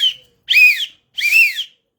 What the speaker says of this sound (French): Je ne sais pas si vous entendez ce sifflet